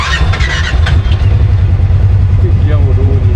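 An off-road buggy with a CVT, set to four-wheel drive and low gear, starts up at an off-road course beside a racing circuit; a loud, steady engine rumble runs throughout while people talk over it.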